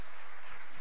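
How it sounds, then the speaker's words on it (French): Audience applause at a Stunfest speedrun event, a short burst of steady crowd clapping filling the moment on its own. "je vous demande d'applaudir Millet."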